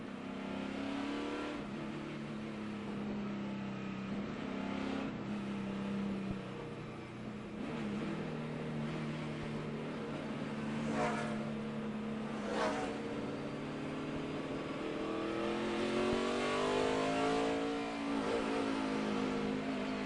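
NASCAR Cup Series stock cars accelerating at Richmond in 2006, a loud sustained roar of many engines with rising pitch sweeps as the pack builds speed, heard continuously at close range.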